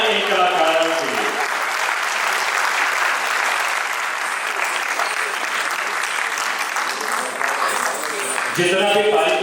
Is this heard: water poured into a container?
no